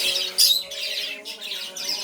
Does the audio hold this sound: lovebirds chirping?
yes